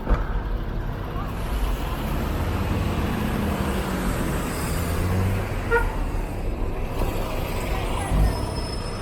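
Bus rapid transit buses and other traffic on a Tabriz street, a steady loud rumble of engines and road noise with a brief air-brake hiss, heard alone throughout.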